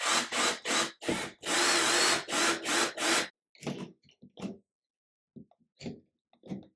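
Power drill driving screws while a smart toilet is installed, several short loud bursts in quick succession followed by fainter, scattered brief whirs and taps.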